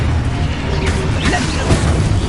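A Confringo spell blast from Hogwarts Legacy lands as a loud, close whoosh and boom over a rumbling game score, with a couple of crackling bursts trailing after it.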